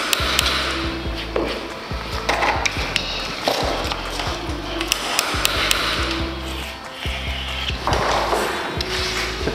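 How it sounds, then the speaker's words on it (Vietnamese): Wooden wedges chiselled out of a composite wood-plastic door frame during installation, a steady run of sharp knocks and scraping taps repeating close by with a low mechanical hum underneath. "Có những thanh gỗ mà chúng ta nêm hồi trước đó thì sẽ đục ra."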